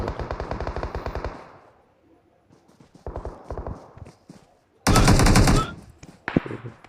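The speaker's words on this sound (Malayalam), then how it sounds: "ആരോ വെടിവെക്കുന്നു" Machine gun fire in the battle game PUBG comes as loud, rapid bursts of evenly spaced shots. Pauses separate the bursts, and a harsher, denser volley arrives near the end.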